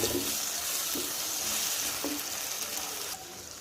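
Onion and green chili sauté in a pan with a constant close hiss of frying, broken by a few metallic spatula knocks. The sizzle dips slightly quieter near the end.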